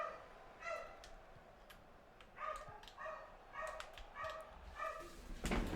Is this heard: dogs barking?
yes